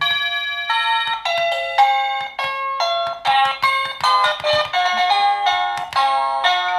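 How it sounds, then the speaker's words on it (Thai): A melodic kinetic, battery-free wireless doorbell chime plays a series of bright tones, cycling through short tunes one after another, clear and close. "สามารถเลือก เสียงเพลงหรือว่าเสียงกริ่งเนี่ยได้ 16 แบบ"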